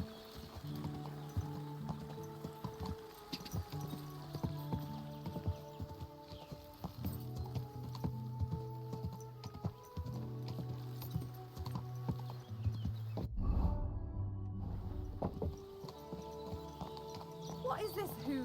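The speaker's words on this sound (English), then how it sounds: "Horse of legend, steed of the mighty Henry." Horse hooves clip-clop at a steady trotting rhythm in the game Kingdom Come Deliverance II, faint and continuous, with music playing throughout.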